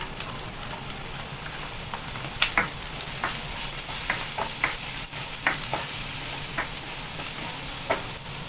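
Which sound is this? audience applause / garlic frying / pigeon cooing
garlic frying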